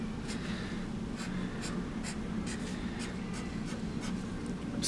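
A pen draws lines on paper to fill in a pattern area, a steady close scratching with short rhythmic strokes recurring about every half second, heard alone with no talk.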